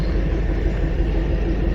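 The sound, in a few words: Janshatabdi Express train departing station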